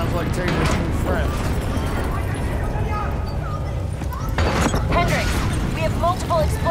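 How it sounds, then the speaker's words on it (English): Several explosions in the Call of Duty: Black Ops III campaign on Hardened difficulty ring out across a facility amid constant low rumble and game noise, with deep booms mixed under busy battle sound. "Multiple explosions across the facility."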